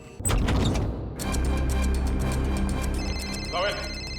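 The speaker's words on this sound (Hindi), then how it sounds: "सर फोन की घंटी बज रही सर।" Telephone ringing indoors in a crime drama scene, a bell-like ring cutting in over dramatic music, with a voice briefly speaking near the end.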